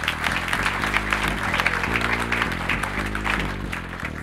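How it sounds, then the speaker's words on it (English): A congregation at a blessing mass applauds the parents in sustained, even clapping, with pitched music sounding underneath throughout. "And let's clap for our parents."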